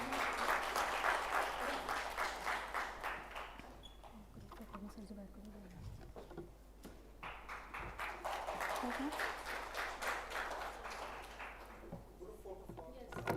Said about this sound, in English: Please give a big warm applause for Mr.